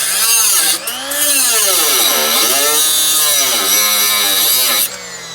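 A tie rod end on a 2007 Jeep Patriot is cut off with a power tool, giving a loud, continuous whining cut whose pitch sags and recovers as the blade loads and frees, with a brief break near the start.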